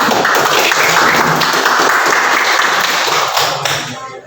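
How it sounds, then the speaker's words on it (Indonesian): Audience applause fills a classroom presentation session, a dense steady clapping wash that holds loud and even for about four seconds before tapering off at the end. "mari kita berikan tepuk tangan dulu ya"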